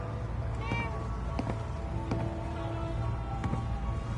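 Cat meowing in the video game Fallout 4, a few moderate meows over a steady low ambient hum, with a faint voice nearby.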